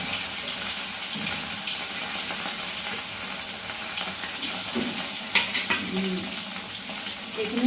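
Shol and bahu fish fry in hot oil in a pan for a fish curry with tenga leaves, a loud, continuous close sizzle broken by a few light clinks.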